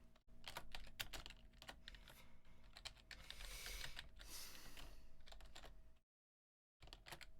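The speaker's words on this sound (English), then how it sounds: "I have to manually type everything out" Rapid clattering keystrokes on a computer keyboard, steady and close, running continuously for several seconds before a brief silent break and then resuming.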